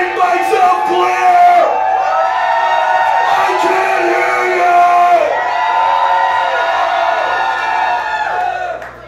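A large concert crowd cheers, whoops and yells at a rock show, a dense, loud and sustained roar that carries through the whole stretch before easing at the end.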